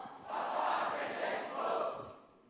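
A large crowd of young people at an interreligious gathering with Pope Francis in Singapore calls out a cheer of "Papa Francesco," a swelling, distant roar of massed voices rising and falling in a couple of waves.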